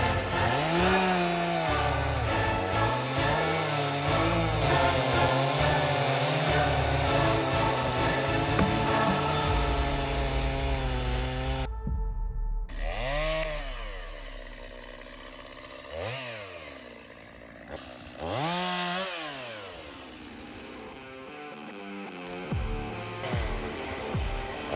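A chainsaw roars continuously up close while cutting wood in a forest, then its engine rises and falls through several revving surges.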